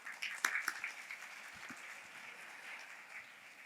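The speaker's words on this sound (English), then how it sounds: "So let's have a huge round of applause for everybody." A college orientation audience applauds, a crowd of hands clapping at moderate distance, with a burst at the start that settles into steady, fainter applause.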